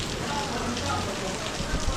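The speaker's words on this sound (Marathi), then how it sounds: "पाऊस चालू झाला म्हणून थांबलो इथं." Rain falling steadily at a roadside stop, a dense even hiss of drops that carries on without pause for the whole short stretch, with no one talking.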